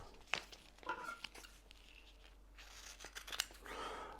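Scissors snip through kinesiology tape up close, with a few quick, crisp cuts and crinkly tape handling between them, all fairly quiet.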